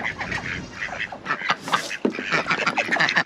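Ducks quacking beside their water on a South Carolina homestead, a busy run of repeated nasal quacks and honk-like calls at close range, overlapping and uneven in rhythm, with no talking.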